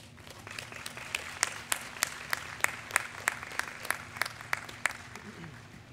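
A small group at a high school graduation ceremony claps, sharp individual claps ringing out at a fairly quick, uneven pace, moderately loud in a room.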